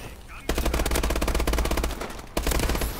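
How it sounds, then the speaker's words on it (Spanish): Rapid automatic gunfire rattles in Call of Duty: Advanced Warfare multiplayer, two sustained bursts of machine-gun fire separated by a brief pause, loud and close. "me están disparando por ahí"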